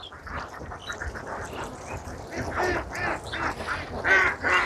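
Ducks on a large open-range duck farm quack in a noisy overlapping chorus, loud harsh calls growing busier toward the end over a constant flock murmur.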